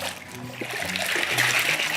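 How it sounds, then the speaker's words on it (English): Coffee beans are rinsed in a fermentation tank during wet processing, and water splashes and sloshes in a steady, close wash of sound that continues throughout. "we're going to rinse this water out"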